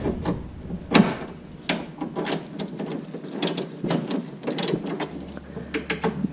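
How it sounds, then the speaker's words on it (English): A 9/16 socket wrench ratcheting to tighten a bolt on a RZR seat and harness mount, a series of close, sharp clicking strokes in irregular bursts with light metallic handling noise. "9/16 socket and 3/4 inch wrench."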